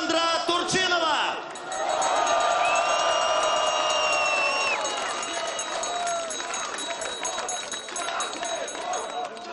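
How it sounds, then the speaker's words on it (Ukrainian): An outdoor political rally crowd in Kyiv roars and cheers with whoops and shouting, a loud sustained mass of voices with whistle-like tones rising over the din, fairly close and continuous. "На цю сцену під ваші оплески я запрошую голову політради об'єднаної опозиції Всеукраїнського об'єднання «Батьківщина» Оле"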